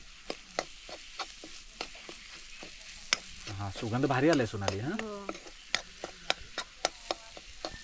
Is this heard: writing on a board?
no